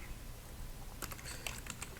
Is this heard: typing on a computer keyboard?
yes